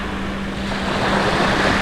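Surf rolls onto Kuala Raja, a brown-sand beach, as a continuous broadband wash of waves with wind buffeting the microphone, steady and close, no voices.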